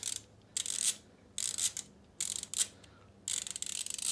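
A Pittsburgh Pro 72-tooth extendable dual-drive ratchet clicks in four separate bursts of rapid fine ratcheting, close and fairly loud, with short quiet gaps between them and no talking.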